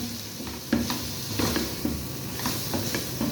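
Carrots fry with mixed vegetables in a pan for pasta on a light flame, a steady close sizzle broken by regular scraping stirs of a spatula against the pan.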